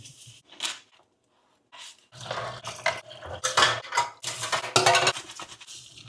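Plates, pots and cutlery clink and rattle irregularly while dishes are washed in a home kitchen, in bursts of clattering with brief pauses between them.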